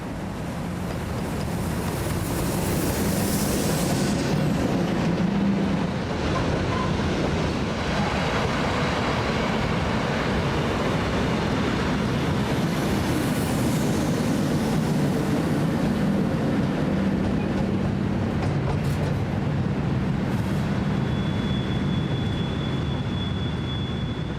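A long, steady rumble of electric locomotives hauling a heavy freight train on France's Causses line, with grinding and clattering wheel noise and occasional high squeals, continuous throughout.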